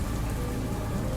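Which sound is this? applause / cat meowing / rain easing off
rain easing off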